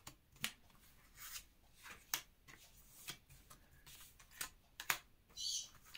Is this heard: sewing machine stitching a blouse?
no